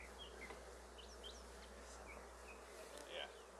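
Honeybees swarm around an open backyard hive with a faint, low, steady buzz, while scattered birds chirp in the background.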